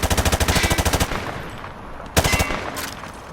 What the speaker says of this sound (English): Turn around and fire at the targets. Don't aim at the sight yet.